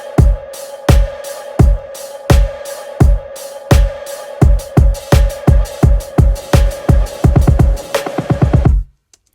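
Build-up drums bounced together with a reverb-soaked cashmere pluck drive an electronic track, evenly spaced punchy hits quickening into a rapid roll under a steady sustained tone before an abrupt cut, loud and alone.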